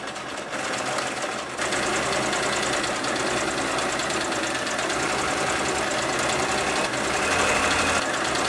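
A sewing machine runs steadily while stitching a denim hem, a close, loud, continuous mechanical whir with rapid needle chatter and a short pause near the start.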